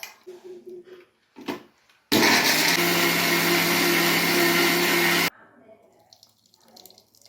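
An electric kitchen blender whirs loudly for about three seconds while blending fruit with boiled milk for juice, starting and stopping abruptly, with a person talking before and after.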